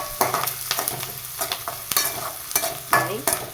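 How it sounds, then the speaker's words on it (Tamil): Dried red chillies sizzle and crackle in a hot pan while a spoon stirs and scrapes repeatedly, producing frequent sharp clatters over a steady frying hiss. "இது காரத்துக்காக 2 வரமிளகா, 4 வரமிளகா கிள்ளி போட்டுக்கிறோம்."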